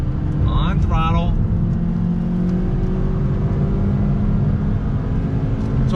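A 2020 Toyota Yaris with a naturally aspirated engine revs while driving, a steady droning engine note with a slowly rising pitch under constant road rumble, with a brief burst of talk near the start.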